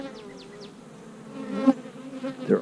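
Calm honey bees buzz inside a hive with a queen, a soft, close hum carrying a few brief swelling flyby drones.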